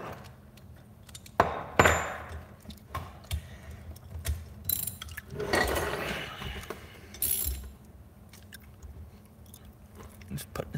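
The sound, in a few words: socket wrench ratcheting on Predator 212 engine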